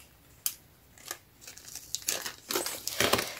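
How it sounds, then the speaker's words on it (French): A pair of scissors cuts through a paper envelope in a run of close, crisp snips and crinkles that come faster and denser toward the end, alone and fairly quiet. "celui-là, je vais le couper au ciseau"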